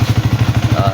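A Yamaha Sniper 135 motorcycle engine idles after a water pump oil seal and bearing repair, giving a steady, rhythmic low thrum with even pulses close by, and a faint higher tone rising near the end.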